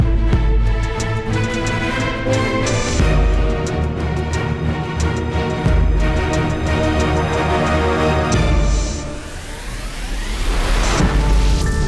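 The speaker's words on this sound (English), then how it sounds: "Seeing how it's raining, I moved today's episode to the car." Rain falling on a car, heard from inside the vehicle: a loud, dense, continuous wash of drumming and hiss that keeps going for the whole stretch, with no voices.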